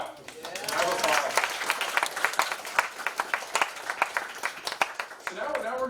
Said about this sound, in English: Have applause.